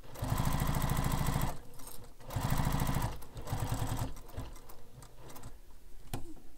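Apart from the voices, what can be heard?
sewing machine top stitching a bag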